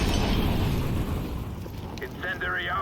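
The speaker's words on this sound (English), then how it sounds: "Incendiary out." An incendiary grenade bursts in a Counter-Strike match on Inferno, a loud whooshing roar of fire that fills the opening second and then settles into a steady crackling burn while a voice speaks over it.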